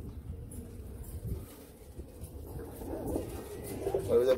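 Royal Teddy pigeons coo in low, throaty bursts against a busy background rustle, with the cooing growing louder and more frequent toward the end.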